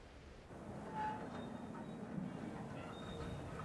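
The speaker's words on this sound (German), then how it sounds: "Durch zahlreiche Tunnel fährt die steilste Zahnradbahn der Welt auf den 2130 Meter hohen Pilatus." Pilatus rack railway, the world's steepest cogwheel line, rumbling steadily through its climb with a low mechanical drone and faint squeals, moderately distant and continuous throughout.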